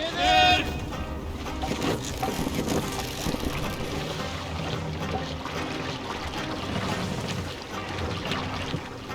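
Viking longship under sail in Assassin's Creed Valhalla, water rushing and sloshing against the hull in a continuous wash, with a voice speaking over it at times.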